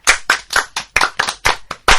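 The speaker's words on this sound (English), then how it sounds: "Applaudissez." A school class clapping hands in a French lesson, about nine loud, close, rhythmic claps in quick succession with no talking.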